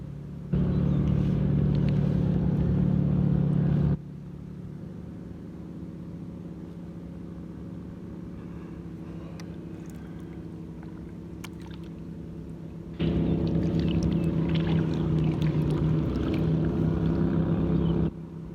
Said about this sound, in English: It's going to take forever for that tugboat to get over here.